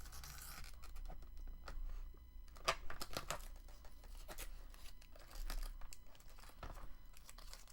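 Paper pieces being cut away from a journal page, giving faint, close crinkling, snipping and rustling sounds in scattered bursts against a quiet background.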